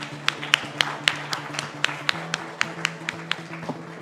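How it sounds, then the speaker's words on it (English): An audience at a conference opening ceremony in Manila gives a modest round of applause, distinct sharp claps in a steady, evenly spaced rhythm over a low room hum. "Let's give them a round of applause"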